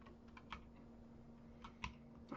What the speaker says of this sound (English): press the W key on your keyboard to move forward